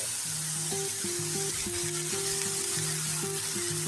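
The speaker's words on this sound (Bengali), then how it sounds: "দিয়ে ভালো করে পেঁয়াজের সঙ্গে হালকা একটু ভেজে নেব।" Grated potato fries with onions in a pan, giving a soft continuous sizzle that runs steadily beneath a looping instrumental melody.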